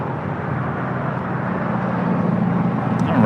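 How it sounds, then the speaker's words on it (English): A United Airlines Boeing 787-10 Dreamliner departing for Tokyo Haneda gives a steady, broad jet roar that builds slightly toward the end, heard alone without talk. "This is United Airlines 39 Heavy departing to Tokyo Haneda 787-10 Dreamliner."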